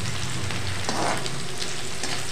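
Onions frying in a pan for an aloo methi bhurji: a steady, close sizzle with a crackling texture that holds evenly throughout, with no talking.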